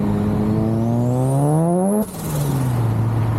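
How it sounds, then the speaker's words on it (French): Mazda RX-7 FD with a BorgWarner rotary turbo accelerating hard, its engine note climbing steadily and loudly before a sharp break at a gear change, then pulling again at a lower pitch, close and continuous. "On met pied dedans, il y a du boost instantanément."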